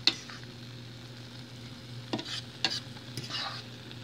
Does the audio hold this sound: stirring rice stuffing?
yes